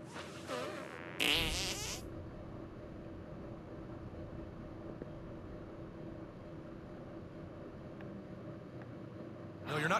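A fart attempt in South Park: The Stick of Truth: a brief sputtering, buzzy burst near the start, then a long stretch of low droning game ambience with a soft click at the end.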